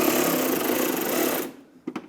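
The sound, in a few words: tightening bolts on Toyota 4Runner inner fender liner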